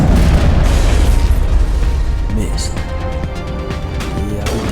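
Heavy rocket explosion in Mass Effect, a loud booming blast that starts at once and rumbles low before fading, with talk over the tail.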